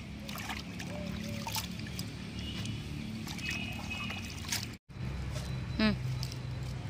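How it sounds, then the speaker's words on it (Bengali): Washed mustard leaves are lifted from a bowl of water, with a faint trickle and dripping of water over a steady background hum and a brief splash near the end. "এবার আমি পাতাটা জল থেকে তুলে নিলাম।"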